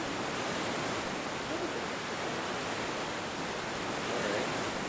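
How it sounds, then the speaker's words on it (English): Steady broadband rush of flowing water from a stream in the King's Quest III game, continuous and fairly loud throughout, with no distinct events. "This stream is just not cooperating"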